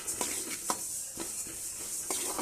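Sesame seeds roasting in a pan over a medium stove flame, making a soft steady sizzle broken by several short crackling pops spaced at irregular intervals, close up and without talk.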